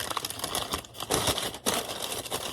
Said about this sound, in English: I just wrap it in some packing paper.